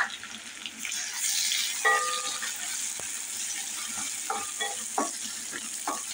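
Chopped onion sizzling in oil in a pan for an okra and potato bhaji, a steady close frying hiss with occasional stirring clicks and scrapes, no talking.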